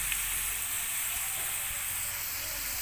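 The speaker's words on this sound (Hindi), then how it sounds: "अब हम इसमें 2 मीडियम प्याज डालेंगे और इनको हम लाइट ब्राउन करेंगे।" Two medium onions sizzle in hot ghee in a kadai, a steady close frying hiss running without a break through the whole short stretch.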